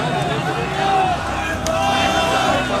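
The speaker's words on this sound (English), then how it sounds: "A mob surrounded the building." A mob massed around the KGB headquarters in Dresden at night, a continuous, dense crowd murmur with no single voice standing out, holding steady throughout.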